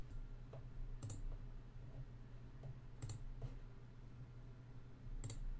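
Computer mouse clicking while working in Excel 2013, three sharp, quiet clicks spaced about two seconds apart against a faint steady hum.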